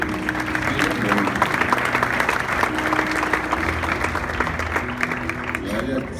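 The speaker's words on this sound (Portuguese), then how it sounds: "Aplauda ao Senhor." A church congregation claps steadily through a worship service, a continuous wash of applause mixed with crowd noise and faint voices.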